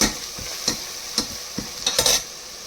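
Fenugreek leaves cooked with masala in a home kitchen pan, a soft steady sizzle broken by several sharp scraping stirs of the spoon, close and clear with no talk.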